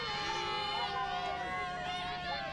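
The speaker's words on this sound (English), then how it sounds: "Here comes the cheering from the sidelines." Spectators on the sidelines of a women's junior ultimate frisbee match between Italy and Austria cheer and call out in a steady, lively crowd noise with overlapping voices and high shouts, continuous and moderately loud.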